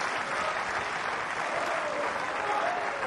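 A Wimbledon tennis crowd applauds after a winning shot, a dense, steady wash of clapping from many hands filling the stadium without a break.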